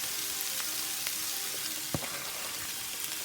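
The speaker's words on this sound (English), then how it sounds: "Into the pot, I'm gonna be putting some onions first. I'm going to brown those a bit with the garlic." Finely chopped onions and garlic browning in a pot give off a steady, even sizzle, close and moderately quiet, with a few light clicks and one soft knock partway through, no voices.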